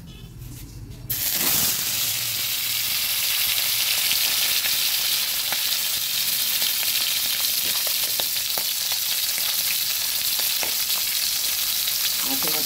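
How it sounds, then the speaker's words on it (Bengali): A turmeric-rubbed fish head dropped into hot oil in a wok sets off a loud, steady hiss of frying that starts abruptly after a brief quiet moment and continues close and unbroken, with faint crackles. "কড়াইতে তেল দিয়েছি, তেলও গরম হয়ে গেছে। এবার মাছের মাথাটা দিয়ে দিচ্ছি।"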